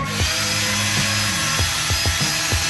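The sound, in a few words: cleaning rust off Subaru Forester brake part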